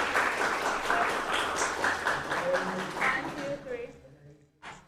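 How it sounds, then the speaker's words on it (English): A roomful of listeners at a student English project presentation claps to encourage a nervous speaker. The applause is dense and steady under talking voices, then thins and fades out near the end. "Give her clap. She's nervous."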